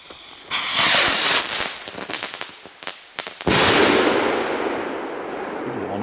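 Firecrackers go off outdoors in a rapid crackling volley of sharp bangs, then a few separate loud pops, and a final big blast that fades into a long rumbling tail.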